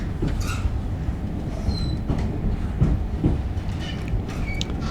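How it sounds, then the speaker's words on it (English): Wheels drum steadily beneath a Great Western Railway carriage on the Penzance line, heard from inside as a loud, constant low rumble with occasional clicks and faint squeals over the rails. "It's the Penzance train, the Great Western Railway I'm on at the moment."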